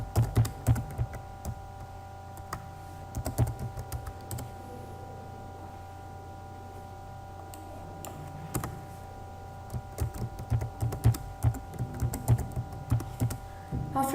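Computer keyboard typing at a desk while entering an email address for a Gmail login, with bursts of close keystrokes clattering at the start and again near the end, and steady background hum in between.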